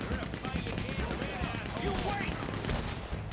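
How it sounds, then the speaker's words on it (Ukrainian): Rapid automatic machine-gun fire in Red Dead Redemption 2, a dense continuous rattle of bursts with overlapping shots and battle noise, loud and sustained throughout. "Ніфіга собі там кулемет"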